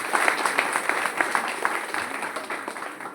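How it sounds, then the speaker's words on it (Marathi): Loud applause for a group at a village jhimma fugdi competition: a crowd claps in a quick, fairly regular patter that gradually eases off. "या गटासाठी जोरात टाळ्या वाजवायच्या"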